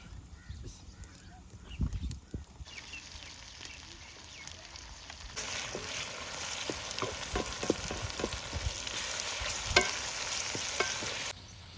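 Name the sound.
tomatoes cooking with onions in a pan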